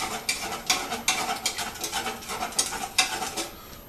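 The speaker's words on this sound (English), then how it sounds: "Stir that up real good, let that mix." A homemade wine mixture is stirred in quick, rhythmic swishing scrapes that repeat about twice a second, close and fairly quiet, with no voices.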